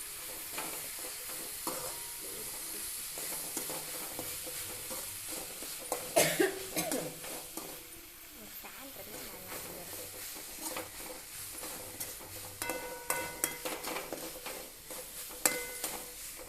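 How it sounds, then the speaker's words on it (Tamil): Onions and tomatoes sautéing in a pan sizzle steadily while a spoon scrapes and stirs against the metal at close range, with one burst of louder clatter and a cough partway through. "இந்த வெங்காயம் தக்காளி வதக்குறதுல தான் இருக்குது குழம்பே"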